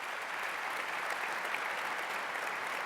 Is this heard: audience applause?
yes